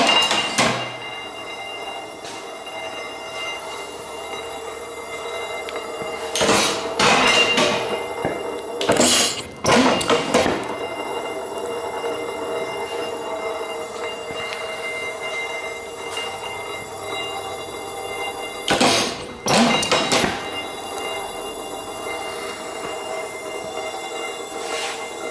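A 75% scale reproduction of an 1867 Otto Langen atmospheric engine runs steadily with a mechanical clatter and several loud, heavy thunks spaced irregularly through the clip, close by and without speech.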